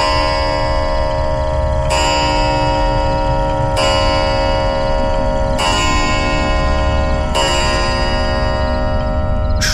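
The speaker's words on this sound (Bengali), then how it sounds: "বাইরের গম্বুজের ঘড়িতে পরপর 5 বার ঘন্টা বাজল" A domed tower clock bell strikes five times at steady intervals of about two seconds, each ringing stroke loud and sustained with a long resonant decay over a constant low rumble.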